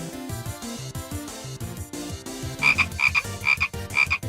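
A cartoon bullfrog croaks in a Roblox-style animation, with repeated loud croaks arriving in a steady rhythm over a backing music track and no talking.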